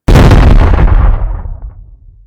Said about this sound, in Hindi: और खुद ग्रेनेड फेंककर उसे उड़ा दिया।